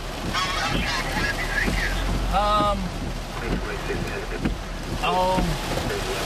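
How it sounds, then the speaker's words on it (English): Torrential rain and gusting wind roar steadily through a storm, a dense, continuous wash of noise broken now and then by short honk-like tones. "it's been gusting pretty good and torrential rain, like you wouldn't believe, blowing sideways"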